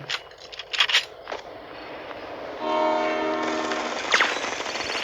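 In the mobile shooter Bullet Echo, a passing train rumbles steadily while its horn blares in short blasts, loud and close, with no talk over it.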